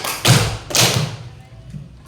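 Children's hands clap together in a classroom clapping game, two loud broadband bursts close together followed by a quieter tail, sharp and near with slight room echo.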